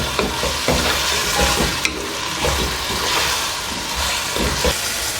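Rice and peas with biryani masala being stirred in a hot pot, with a steady sizzle and frying hiss and repeated scraping strokes of a spoon.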